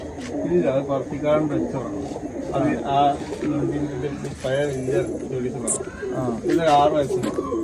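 Pigeons in a breeding loft coo repeatedly in low rolling phrases close by, with soft chirps mixed in and someone speaking throughout over the birds.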